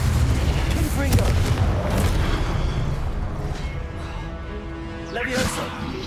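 Confringo blasting spell explosions in Hogwarts Legacy boom under a dense, noisy combat mix, with a fresh burst near the end. Someone talks over the sounds.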